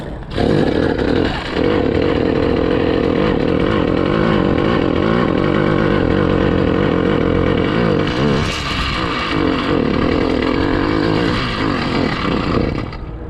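A motorized bicycle engine, newly fitted with fresh jets and started by the clutch, runs loud and close with a raspy buzzing drone, dipping briefly near the start and wavering mid-way as the throttle shifts.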